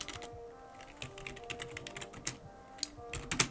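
Quiet, uneven tapping of a computer keyboard, with a few keys struck harder near the end.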